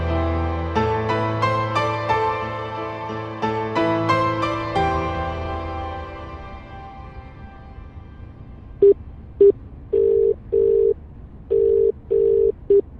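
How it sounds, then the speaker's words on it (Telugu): A telephone tone sounds in a series of short, regular electronic beeps, clear and close, after gentle melodic music fades out. "అల్లుడు మళ్ళీ ఫోన్ చేస్తున్నాడు ఏంటి?"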